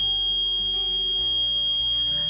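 A buzzer driven by an ESP8266 NodeMCU ultrasonic sensor circuit sounds continuously, a thin steady electronic tone held throughout at moderate level with no talk over it.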